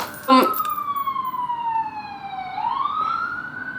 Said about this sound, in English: why there's always ambulances passing by my apartment?